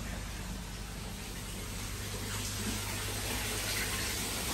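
Water in a koi pond flows and splashes in a steady, close rushing wash that carries on unbroken, with no voices over it.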